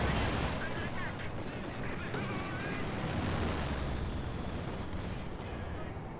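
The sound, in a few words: ZiS guns firing at Tigers in a WWII strategy video game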